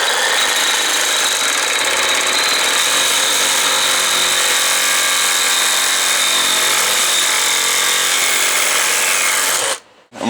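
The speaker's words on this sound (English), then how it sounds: "Now what I'm going to do is get my sawzall. Make sure you have a metal blade." A reciprocating saw fitted with a fine-toothed metal blade cuts through a metal key for a small engine, buzzing loud and steady with a harsh high-pitched whine for about ten seconds before stopping abruptly.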